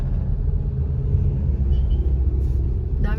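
Steady low rumble of highway traffic in Dasmariñas, Cavite, on a day after rain, with cars passing continuously and no talk, the broad drone holding even for the whole stretch.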